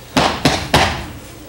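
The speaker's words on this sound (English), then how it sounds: "When she reaches her granny's house, she knocks on the door." Three spaced knocks on a door in an animated children's story, fairly close and loud, with a short gap between the second and third, each a sharp broadband thump that fades quickly.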